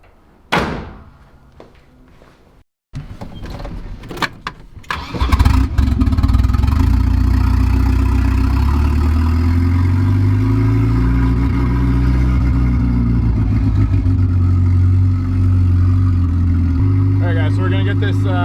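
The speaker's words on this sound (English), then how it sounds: "let's fire this thing up and take it for a little cruise around the block" A Volvo station wagon door thuds shut, the starter cranks, and the engine, fitted with a Dodge Cummins turbocharger, catches and revs before settling into a loud, steady idle.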